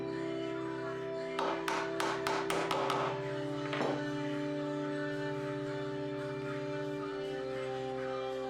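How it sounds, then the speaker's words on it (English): A mallet taps a small wooden cross into place on an heirloom crucifix, giving a quick series of about seven sharp knocks over a steady background hum, then a final softer thud. "Just a few more taps with the mallet and it snaps right in."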